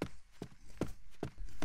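Footsteps of someone following in a cartoon, five evenly spaced thudding steps about 0.4 seconds apart, close and moderately loud over a quiet background.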